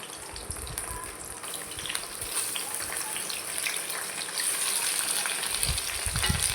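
Chopped onions frying in hot oil for a home-made chicken pepper dish, a steady loud sizzle with bubbling crackle throughout, no voices.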